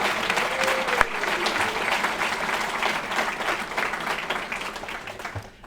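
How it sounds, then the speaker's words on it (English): Sustained applause from an audience at a Westlake Hall of Fame induction ceremony, dense and steady for several seconds before thinning toward the end, with a brief voice and a sharp knock near the start. "round of applause"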